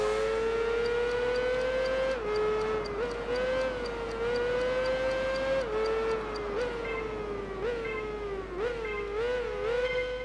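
Suzuki GSX-R600 racing motorcycle in Tourist Trophy, a steady high engine whine held under throttle with brief pitch dips at gear shifts, loud and close throughout.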